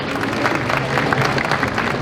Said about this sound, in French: Merci Natalia, on peut l'applaudir s'il vous plaît.